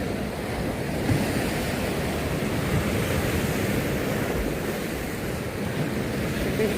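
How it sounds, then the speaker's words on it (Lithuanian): Large Mediterranean sea waves roar and wash continuously in a dense, unbroken surf rumble, with wind buffeting the microphone throughout. "Bangos didžiulės"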